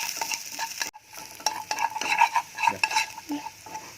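Sliced garlic stirred in a hot pan, a close sizzle of frying under repeated scraping utensil strokes, with a brief pause before the stirring picks up again.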